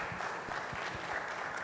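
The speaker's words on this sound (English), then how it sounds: "A round of applause for him." An audience at a Pan Atlantic University EDC event claps in a quiet, steady patter of applause that stays even throughout, with no voices over it.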